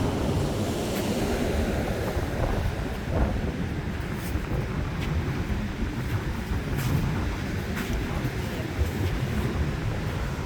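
Pacific Ocean surf in California rolls continuously with wind gusting across the microphone and blowing foam off the waves, a loud broadband wash with occasional brighter splashes, no voices.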